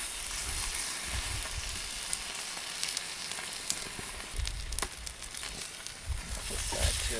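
Steak fat cap searing on a Weber Q griddle, a steady loud sizzle with crackling pops throughout, close and continuous with no voices.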